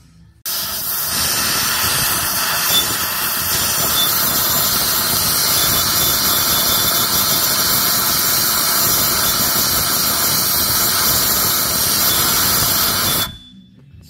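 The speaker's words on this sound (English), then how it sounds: "So there's a squeal." Steady, loud high-pitched squeal from a 70mm BBK throttle body on a Foxbody Mustang engine, a continuous whistle over the engine running for about thirteen seconds before cutting off.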